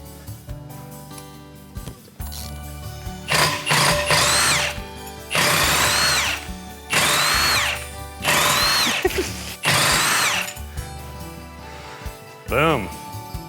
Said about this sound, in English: Loosen them up and then we're gonna hit them with the impact.